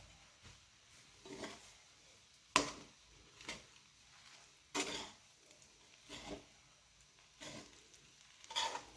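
Kothu parotta, Trivandrum style, stirred and mixed in a pan with a soft background sizzle, punctuated by sharp metallic scrapes and clanks at irregular intervals.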